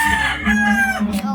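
A rooster crows loudly and close, a single drawn-out call with a rising then falling tone.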